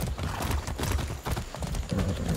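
A ridden horse clip-clops steadily in Far Cry 6, close, even hoofbeats repeating throughout with no talk over them.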